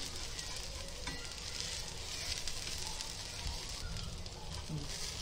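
Moong dal masala dosa frying on a hot pan just after being flipped, giving a steady crackling sizzle with light scraping, close and continuous throughout.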